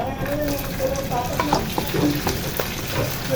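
Ube bico mixture cooking in a frying pan, sizzling and frying steadily with occasional stirring scrapes, close and clear, with no talk over it.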